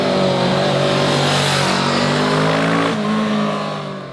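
A Kawasaki Vulcan S cruiser motorcycle engine revs hard and loud with a rising, sustained roar, dipping briefly before climbing again toward the top of its range.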